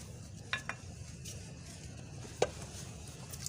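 Onions with ginger, green chilli and garlic paste being stirred in a pot for katwa gosht, a soft scraping with a couple of light clinks of the spoon against the pot over a low steady sizzle.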